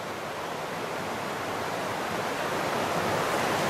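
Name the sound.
roar of the river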